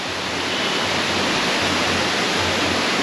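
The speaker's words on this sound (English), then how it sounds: "And there's a small waterfall here." A small waterfall in Sri Lanka pours close by, giving a steady, loud, even rush of falling water that never changes over the whole stretch, with no voices.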